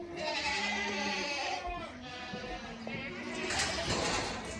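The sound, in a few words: goats in a back barn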